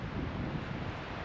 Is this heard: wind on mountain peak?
yes